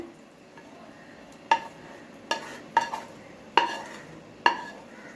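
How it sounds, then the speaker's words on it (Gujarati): Handvo batter with spinach, fenugreek and green chili paste being mixed in a bowl, a faint soft background broken by about five sharp clinks of a spoon against the bowl at irregular intervals, close by with no talk. "બધી સામગ્રી આપણે મિક્સ કરવાની આ રીતે."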